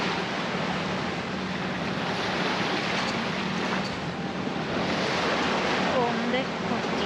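Sea waves wash steadily around a sailboat off the Sardinian coast near Porto Fraili, a continuous broadband rush of surf and water with some wind noise on the microphone, loud and close throughout.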